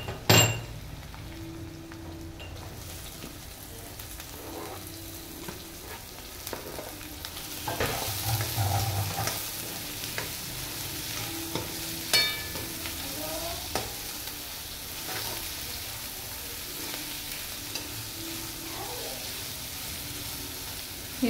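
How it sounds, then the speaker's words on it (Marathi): Chopped onion fries in oil in a pan over a low flame, a steady close sizzle broken by repeated scraping and clinking as a spoon stirs it, with no talking. "हे मस्त मी चांगलं फ्राय होऊ देत आहे"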